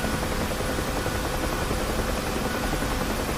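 Simulated helicopter in the combat flight game DCS World, a loud, unbroken rotor and turbine roar holding steady throughout with no talk.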